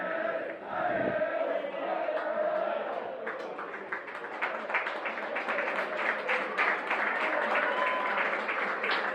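A stadium crowd at an amateur football match applauds a young player leaving the pitch as a substitute. A commentator talks first, then the scattered clapping grows into a steady patter, fairly distant.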